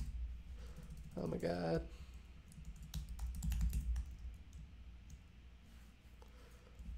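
Keyboard typing on a computer during a coding session, a steady patter of quick key clicks under someone talking close to the mic.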